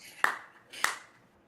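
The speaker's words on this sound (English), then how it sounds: "No, it's a clap. I've used this clap before, Jacob. It's on the YouTube audio library." Two sharp single claps from a stock sound effect, about half a second apart, each with a brief ringing tail and no voices.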